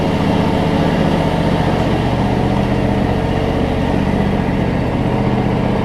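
A John Deere X300 riding lawn mower engine runs with a loud, steady, close-up drone that holds an even pitch throughout.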